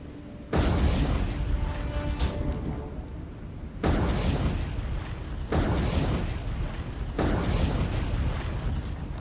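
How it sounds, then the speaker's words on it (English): Torpedoes strike a battleship in a naval war game, four heavy explosions spaced a few seconds apart, each a deep roaring blast that fades into a long rumble. No one speaks. "four successful torpedo hits on, so that all of our torpedoes did in fact hit"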